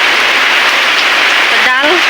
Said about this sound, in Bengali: আজকে বৃষ্টি হইতেছে